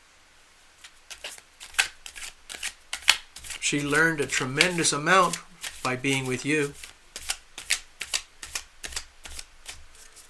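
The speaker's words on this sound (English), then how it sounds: "I'm just shuffling away here." Tarot cards are shuffled repeatedly in quick riffling bursts close by, while someone speaks briefly over the middle of the shuffling.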